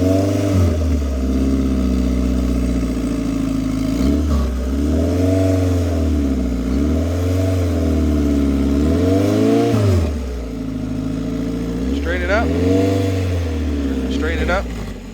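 A race car engine with a boost controller revs up and down repeatedly while driving, loud rising and falling surges near at hand, with brief chatter in the background.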